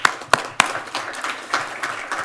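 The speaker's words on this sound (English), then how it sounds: "Another round of applause." Applause from the audience at an evening school district board meeting: a few sharp, separate claps open it, followed by a thin, scattered patter of hands from a modest crowd.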